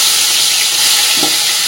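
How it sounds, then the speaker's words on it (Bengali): Hilsa fish heads fry in hot oil, giving a loud, continuous sizzle with a faint stirring scrape, close up. "ইলিশ মাছের মাথা দিয়ে বাঁধাকপির ঘন্ট বানানোর জন্য মাথাগুলো আগে একটু ভেজে নেবো।"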